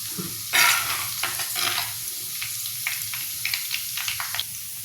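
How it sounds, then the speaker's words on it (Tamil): Mustard seeds and fennel seeds crackle and sizzle in hot oil in a pan for a chicken kuzhambu, a loud continuous frying hiss with sharp popping bursts throughout and no talk. "கடுகு வேக வச்சுட்டு பெருஞ்சீரகம் கொஞ்சம் போட்டுக்குவோம்."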